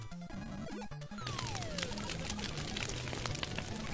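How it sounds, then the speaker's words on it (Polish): A quick pour of water for a drink, a short bright splash over chiptune music and game sound effects from the NES game Darkwing Duck. "napije się wody."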